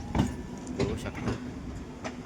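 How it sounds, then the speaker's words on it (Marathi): Train pulling out of a depot, a low rumble with light rhythmic clatter heard briefly at moderate distance. "ट्रेन चालली आहे."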